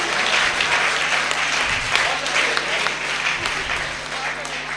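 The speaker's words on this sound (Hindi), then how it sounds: "खुलकर तालियां बजा सकते हैं आप लोग" A comedy show audience claps loudly and continuously, a close, dense wash of hands with a few sharper individual claps standing out, sustained for a few seconds without pause before easing slightly.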